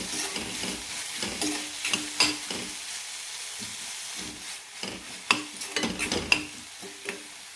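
Tomatoes stirred and fried in a pan for a paneer gravy: a continuous sizzle with repeated scraping stirs of a spoon against the pan, close and moderately loud, no voices.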